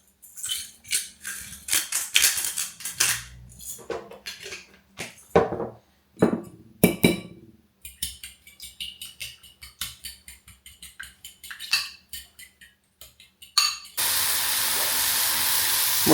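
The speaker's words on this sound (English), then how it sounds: "Mushrooms are cooking" Mushrooms sizzle in a pan in a home kitchen, with intermittent clattering and scraping of cooking utensils before a loud, steady hiss of frying takes over at the end.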